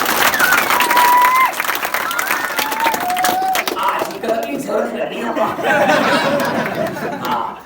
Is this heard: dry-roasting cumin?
no